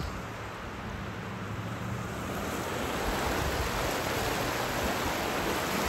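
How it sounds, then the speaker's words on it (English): Spring Creek, a small river in Hot Springs, North Carolina, rushes steadily beneath a bridge, making a broad, continuous wash of flowing water that stays close and even throughout with no voices. "this is Spring Creek, which to me is a small river."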